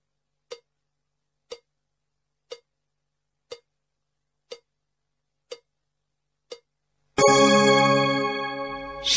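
Evenly spaced single bell dings, seven in a steady one-per-second rhythm, in a classroom English lesson, followed by a louder sustained ringing tone at the end.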